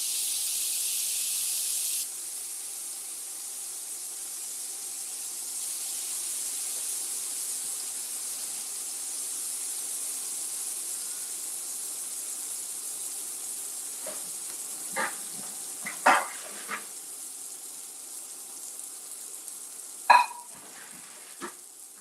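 Lemon pepper catfish fillets pan-searing in a skillet, a steady broad sizzle and hiss running throughout, with a few sharper clinks and scrapes of handling toward the end.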